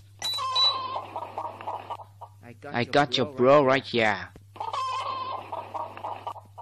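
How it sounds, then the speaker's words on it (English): Chicken clucking from a jump in the video game Growtopia: a burst of clucks opens the clip, a person talks through the middle, and another run of clucks follows, fairly loud over a steady low hum. "So when you jump, it will make a sound of chicken."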